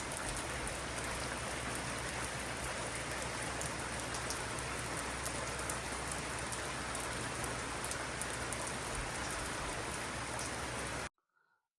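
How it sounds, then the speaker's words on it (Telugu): Rain pours steadily under a cloudy sky, a dense even hiss of drops hitting surfaces that cuts off abruptly near the end. "మీరు చూసారా మబ్బుగా వర్షం చూసారా ఎలా పడుతుందో"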